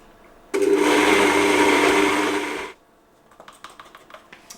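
Blender whirring kadhi masala paste with oil for about two seconds, a loud steady motor roar that cuts off abruptly, followed by a run of light taps and clicks.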